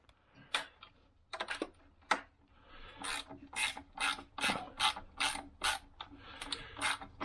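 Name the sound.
removing bolts from Jeep Wrangler intake manifold bracket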